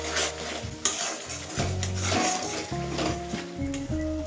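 Coconut paste stirred into a pan of cooking food: repeated close scraping and clattering strokes of a spoon against the pan, over a light sizzle, with no talk.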